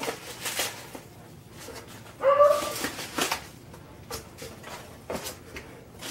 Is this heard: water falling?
no